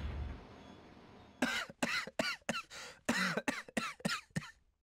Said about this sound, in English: I'm coughing.